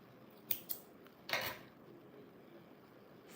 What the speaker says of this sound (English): then you can cut the yarn